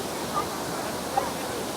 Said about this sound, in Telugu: ఇది 7th హైయెస్ట్ వాటర్ ఫాల్ అంట